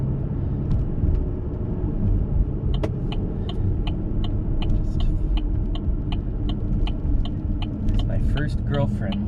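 A car cruises through residential streets in Bismarck, North Dakota, with a continuous low road and engine rumble throughout and faint regular ticking, likely a turn signal, over it, and a brief voice near the end.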